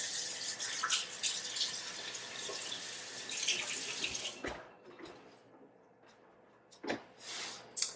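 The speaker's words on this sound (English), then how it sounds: "Now, I am going to rinse my hands." Hands rinsed under a running kitchen tap while cooking pork chops: a steady faint stream of water for several seconds, then it breaks into splashes and intermittent bursts as the hands move beneath it; no talking.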